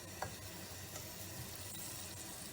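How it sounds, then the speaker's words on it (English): Calamari frying in olive oil, a faint, even sizzle that holds steady throughout with a soft tick near the start. "we're just going to put the calamari in"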